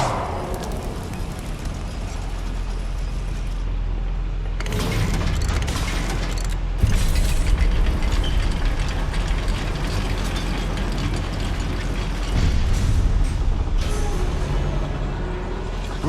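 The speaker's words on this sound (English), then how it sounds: "Look at this lift. Impressive workmanship for so simple a device." A goblin mine lift works in Hogwarts Legacy: a heavy mechanical rumble with grinding gears, clanks and ratcheting thuds that rise and fall over a long stretch.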